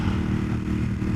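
A Ducati Monster 1200S engine held around 4,000 to 5,000 RPM while riding, a loud, close, steady throbbing drone with no break.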